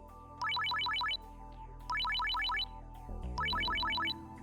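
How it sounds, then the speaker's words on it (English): A smartphone ringtone in Steins;Gate 0 chimes in three repeated bursts of rapid rising electronic notes, clear and prominent over a low game background, with a new music layer entering before the last burst. "Mao's smartphone rang."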